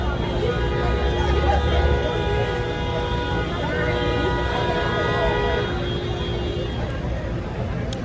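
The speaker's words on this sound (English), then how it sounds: "Why do people honk so much in Atlanta?" Long car horn blasts sound over busy Atlanta street traffic and a murmur of voices, several overlapping horns droning for a few seconds before fading.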